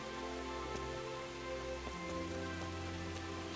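Rain falling in the medieval open-world game Kingdom Come: Deliverance, a soft, continuous patter on the ground under a faint low hum, with no one speaking.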